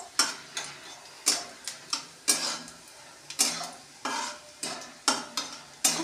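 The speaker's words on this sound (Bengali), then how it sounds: "এই দেখো রসুনগুলো কিন্তু লাল লাল ভাজা হয়ে গেছে।" Garlic fried in ghee in a pan, heard as a faint background sizzle under repeated scraping strokes of a spoon or spatula against the pan in an irregular rhythm.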